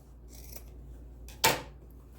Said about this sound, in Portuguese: Vou cortar também aqui esse excesso.